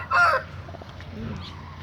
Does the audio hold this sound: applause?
no